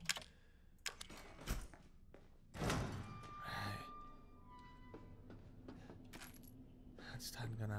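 Handgun ammo being picked up in the PC version of the Resident Evil 7 video game: a few sharp, coin-like clinks and thunks over quiet menu ambience, with sparse clicks following.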